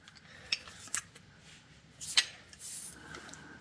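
An old Craftsman 3/4 inch drive ratchet is handled in a gunsmith shop, giving a few sharp metallic clicks and a short run of ratcheting snaps, close and quiet against near silence.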